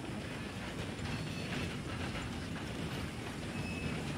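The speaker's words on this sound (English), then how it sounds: "This is the first train we see on this side." Train rolling past in the Red Dead Redemption 2 video game, a steady, loud rumble with clickety-clack of wheels on rails, continuous throughout with no talking.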